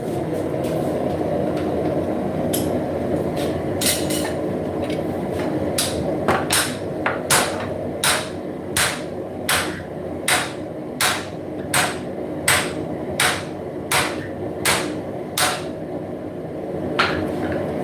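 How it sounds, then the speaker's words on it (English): A hammer strikes a drift through the eye of a hand-forged spontoon tomahawk, working bottom up. Loud, ringing metal blows land at a steady, even rhythm of roughly two per second over a low background rumble, with no voices. "Right now, Cheyenne is drifting bottom up on this"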